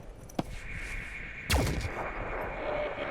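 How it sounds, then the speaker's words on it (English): Gunfire in the squad-tactics game Phoenix Point: a sharp single shot, then a louder booming burst with a rumbling tail over a steady low hum. "Opening fire."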